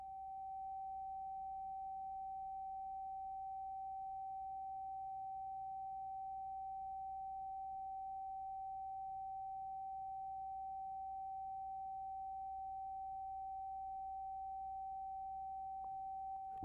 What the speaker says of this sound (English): The frequency of the oscillator has now been set to the natural frequency of the beaker.